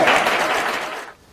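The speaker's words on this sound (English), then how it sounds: "Give him a round of applause." Short burst of audience applause after a mentalist's reveal in a live magic show, dense clapping that fades out near the end.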